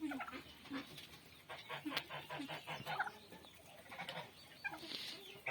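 Farm geese kept alongside turkeys call in short, honking bursts during mating, scattered and moderately near, with other poultry clucking and a few faint voices in the background.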